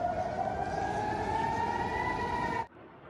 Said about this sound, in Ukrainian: у місті спрацювали сирени повітряної тривоги